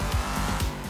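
A gray fastback car speeds along a highway in the video game Sleeping Dogs, giving a loud, close engine roar with tire noise over about a second.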